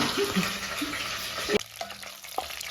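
Dried red chillies frying in oil in a pan, with a busy crackling sizzle and occasional spoon clacks, thinning out after a sharp knock partway through.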